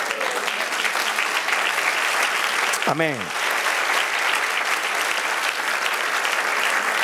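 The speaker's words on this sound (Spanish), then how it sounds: "Dale un aplauso." Steady applause from a church congregation fills the room throughout, with a voice calling out briefly in the middle.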